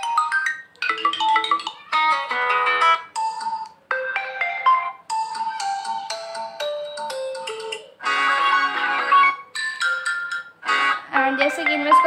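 Infinix Hot 11 phone ringtones previewed one after another: short melodic electronic jingles, chimes and tones, each cut off abruptly before the next starts, loud and clear with brief silent gaps between.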